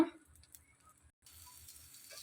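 A tomato omelette is flipped in a pan and then fries with a soft, steady sizzle that rises after a brief quiet, close by and without speech.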